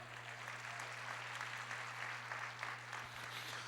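Church congregation applauding during a sermon, faint and distant wash of clapping under a steady low electrical hum.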